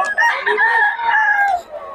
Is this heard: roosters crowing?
yes